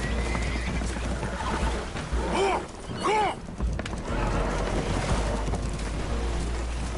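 Spooked horses neigh and whinny loudly in Red Dead Redemption 2, two sharp high calls near the middle over constant rushing water and hull noise as a boat takes on water.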